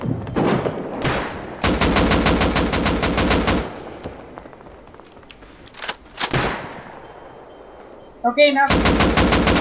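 Rapid automatic gunfire from the survival game Rust, with long loud bursts of repeated shots broken by pauses and single blasts, plus a brief spoken word in the middle.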